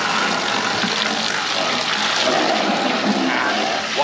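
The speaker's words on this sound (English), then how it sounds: "Water going everywhere." Loud, steady rush of water gushing from a hose through a water filter, splashing continuously, close by and filling the whole clip without pause.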